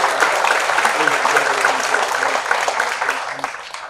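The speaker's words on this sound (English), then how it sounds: "if we could just give them a big round of applause" An audience at a government affairs forum gives a round of applause, sustained clapping at fairly loud volume that holds steady for a few seconds, with a voice faintly audible beneath it.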